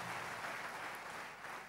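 A large audience at a Christian gathering applauds, a soft, even wash of clapping that holds steady for under two seconds with no voices over it.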